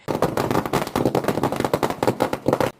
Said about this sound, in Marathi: फटाक्यांची माळ लावण्यात आली